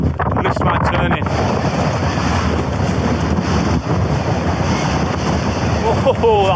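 Strong wind buffets the microphone loudly and steadily on a snowy winter mountain, a dense roaring rush with gusts that never lets up.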